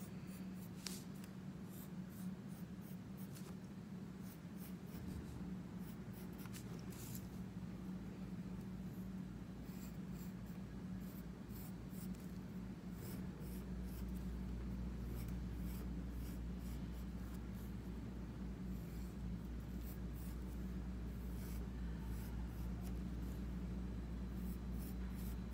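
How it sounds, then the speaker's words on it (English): Pencil drawing lightly on paper during an elementary art lesson, sketching a round circle: soft, continuous scratchy strokes close up, steady throughout with no talking over them. "the reason we draw lightly with our pencil"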